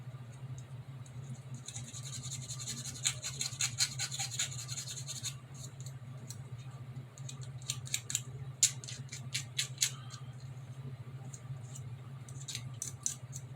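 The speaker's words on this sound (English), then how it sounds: "You can see how easy that is and how quickly these files take it down." A hand file rasps across the rear bumper of a scale model, close and quiet, in bursts of quick scraping strokes with short pauses between, no voices.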